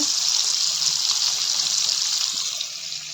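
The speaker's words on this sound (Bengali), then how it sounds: "দেখো মাছ ভাজা শুরু হয়ে গেছে" Fish frying in a pan in a home kitchen gives a steady, fairly loud bright hiss that runs unbroken and eases off slightly near the end, with no talk over it.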